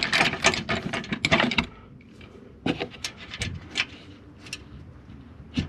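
Tow hook bolts coming out from under the front bumper of a 2000-2006 Chevrolet Suburban or Tahoe (GMT800) with a deep-well socket: a fast ratcheting burst, then sparser clicks and scrapes, close by.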